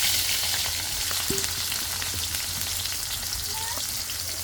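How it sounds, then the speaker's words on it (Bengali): Onion and chili hit hot oil with cumin in a pan, setting off a steady, close sizzling fry with a few brief clinks and stirring sounds and no talk. "জিরা টালার পরে এখন হলো পেঁয়াজ মরিচ দিয়ে দিলাম"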